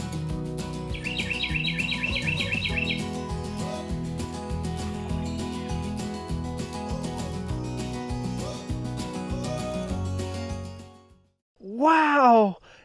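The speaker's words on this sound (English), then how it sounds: "The male cardinal are very easy to spot with their bright red feathers, and they love to sing beautiful songs." A male northern cardinal sings a short burst of repeated whistled notes for about two seconds, set against steady background music, with a brief voice near the end.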